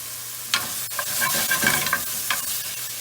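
Garlic added to a pan for chicken Alfredo, a steady close sizzle with crackling pops and scraping strokes of a utensil stirring it.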